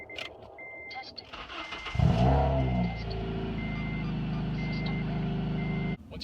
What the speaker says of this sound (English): we want to start the vehicle for approximately 10 seconds